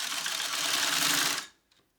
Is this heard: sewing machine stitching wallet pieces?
yes